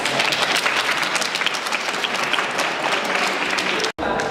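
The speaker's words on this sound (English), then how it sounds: "Children, can we give a clap to our helping mums?" Children clap at a school assembly, producing a continuous loud, dense patter of many small hands that runs nearly the whole time before breaking off abruptly near the end.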